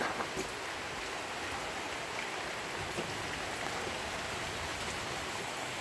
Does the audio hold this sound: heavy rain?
yes